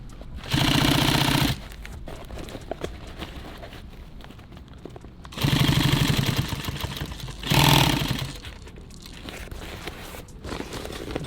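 Sewing machine stitching nylon tactical gear in three separate bursts of rapid mechanical whirring and needle clatter, each lasting one to two seconds, with quiet pauses and faint handling noise between them.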